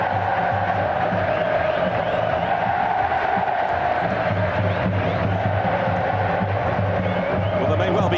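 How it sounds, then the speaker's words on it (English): A dense stadium crowd at a football match between Fluminense FC and Italy in Brazil in 2014, sustained roaring and cheering babble filling the space steadily and loudly throughout, with no single voice standing out. "And the crowd have made it fabulous."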